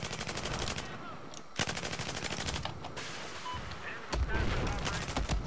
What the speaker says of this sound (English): I hear more javelins, maybe there's hope.